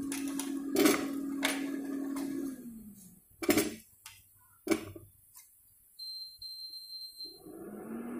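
Ginger pieces dropped into a kadai produce a few sharp metallic clinks and taps against the pan, spaced irregularly over a low hum, with a faint thin tone briefly near the end.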